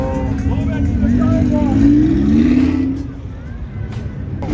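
At a JDM car meet, a nearby engine revs up and sweeps higher, then falls away, with voices talking and shouting throughout.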